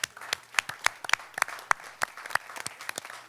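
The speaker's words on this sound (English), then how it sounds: "I think they need a round of applause" Scattered hands clap for the security company at a delegate assembly, a sparse, uneven handful of sharp claps from a small gathering, fairly close and otherwise quiet.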